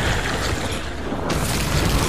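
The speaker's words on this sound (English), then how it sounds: "I also recommend throwing the grenade at him very much, because see how effective it is?" A grenade detonates in Resident Evil 2 Remake, a loud, low rumbling boom that fills the whole clip, with a tail that shifts partway through. No voices.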